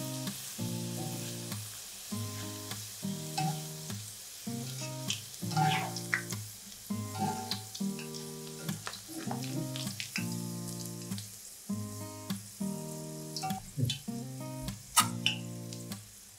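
Chicken pieces coated in salt and turmeric fry in hot oil, a continuous close sizzle broken by irregular pops, spatters and stirring clatter, with no talking.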